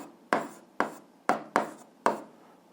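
An answer to an eighth-grade algebra exercise is written by hand: five short, crisp scratching strokes, close and spaced about half a second apart, in a quiet room.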